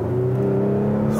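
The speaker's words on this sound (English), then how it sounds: "It's got a lovely, lovely exhaust note" Exhaust note of a 2019 Audi SQ5 while driving, a steady low droning hum with a sustained tonal engine pitch, loud and continuous with no talk.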